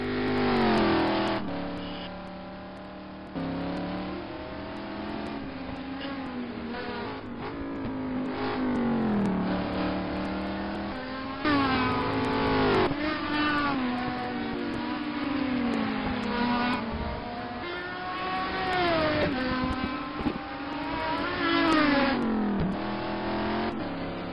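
Race cars in the ETC Black Cup test race at Ti Aida roar around the track with repeated rising and falling engine revs and gear changes, loud and continuous, with no talking.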